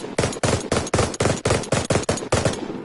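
A light machine gun in a video game firing in repeated short bursts, each a tight cluster of loud, punchy shots in a steady rhythm, close and dominant with no talk.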